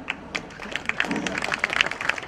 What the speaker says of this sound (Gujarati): સારી તાળીઓ પાડો ને